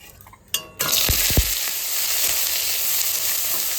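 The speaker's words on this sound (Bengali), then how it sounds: "আমার তেল গরম হয়ে গেছে আমি এবার সোয়াবিনটা ভেজে নেবো" Soybean chunks dropped into hot oil, bursting into a loud, steady sizzle and crackle that keeps going after a short clatter at the start.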